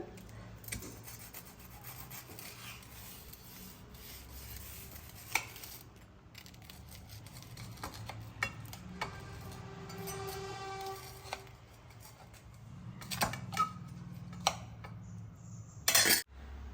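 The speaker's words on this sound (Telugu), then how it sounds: "రండి కట్ చేద్దాం" A knife cuts through a cheese, mayonnaise and aloo sandwich: quiet rubbing, scraping strokes against bread and a board, with a few soft knocks and a sharp clatter at the end.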